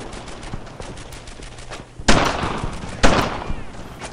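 Gunfire in the World War II shooter Brothers in Arms: Earned in Blood. Two sharp, loud blasts land about a second apart, each trailing into a rough echoing tail over a low background hum.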